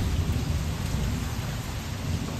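Steady heavy rain pouring down, a dense unbroken hiss with a low rumbling undertone, no talking.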